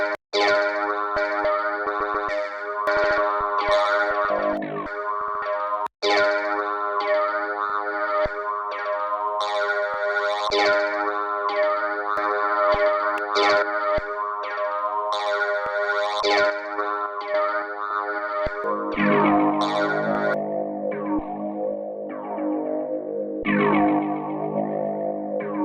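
A pitched guitar sample played as a melody in FL Studio, heavily processed with distortion, chorus and echo so it no longer resembles a guitar; sustained layered tones shift register partway through, steady and loud with no voices.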